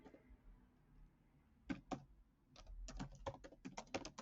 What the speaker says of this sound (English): let's type the word dedicated correctly